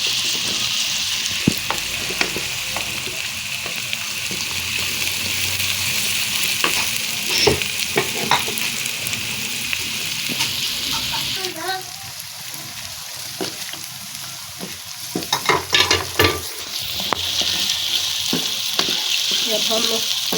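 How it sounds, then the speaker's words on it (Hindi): Potatoes and browned peas frying in a pan for a masala aloo matar methi dish, a steady sizzle running throughout with intermittent stirring scrapes and clatters, close and fairly loud, with no talking. "अब हम इसमें अपने ये आलू ब्राउन कर लेते हैं, इसको फ्राई कर।"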